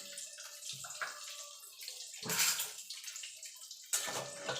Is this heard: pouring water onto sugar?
yes